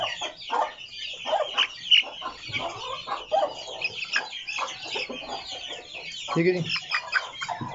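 Aseel hens and birds clucking in a pen, a busy run of short, overlapping clucks and chatter at close range, with someone briefly speaking among them.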